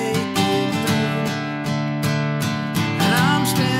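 An acoustic guitar is strummed in a steady rhythm, with quick up strums slipped between the down strokes to give a more driving feel. It rings out bright and close for a few seconds.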